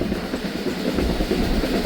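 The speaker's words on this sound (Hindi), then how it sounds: "मियां चन्नू रेलवे स्टेशन अप्रोच कर रही है ट्रेन" The Musapak Express rolling toward Mian Channu railway station at night, a steady loud rumble with faint clickety-clack of wheels on rails, heard from inside the coach, no talk.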